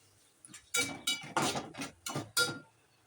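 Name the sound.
stirring tomato masala in a pan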